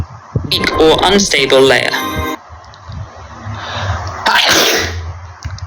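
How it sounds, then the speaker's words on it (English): A loud sneeze bursts out near the microphone amid some muffled talk, followed by a second sharp exhalation. "Oh, I'm sneezing."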